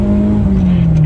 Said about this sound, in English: All right, I'm gonna floor it here.